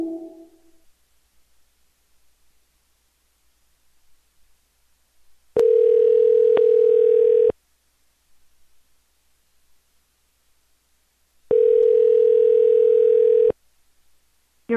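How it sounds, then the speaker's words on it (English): A voicemail tone sounds twice after a recorded greeting: a loud, steady electronic beep lasting about two seconds each time, separated by several seconds of near silence, with a faint voice fragment at the start. "At the tone, please record your..."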